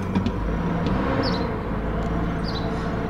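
GMC Envoy or Chevrolet Trailblazer engine idling after water pump and alternator replacement, a steady low rumble close by, even and continuous.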